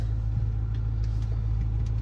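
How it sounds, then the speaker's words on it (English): Ford 6.4L Powerstroke diesel engine with 211,000 miles, a boost fault and excessive smoke, idling with a steady low hum and a faint tick on top, heard from nearby. "it sounds pretty quiet. Engine sounds good."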